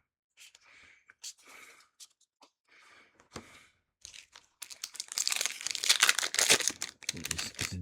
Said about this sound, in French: Il se déchire comme du papier à cigarette.